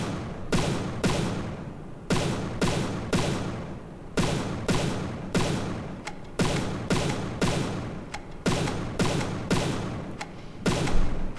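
Flak cannon fire in the naval combat game From The Depths: a steady stream of heavy, rapid booms, each cracking sharply before fading, repeating about twice a second for the whole stretch, loud and close with no talking.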